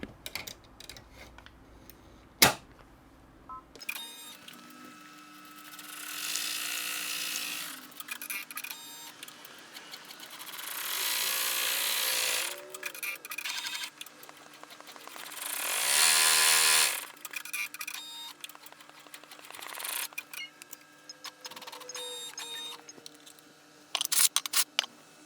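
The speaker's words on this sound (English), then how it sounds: "it's going to do the final bean stitch on here" An in-the-hoop embroidery machine sews a bean stitch on a bear's birthday outfit, giving bursts of fast mechanical whirring and clatter that start, pause and resume, with a quieter hum between runs.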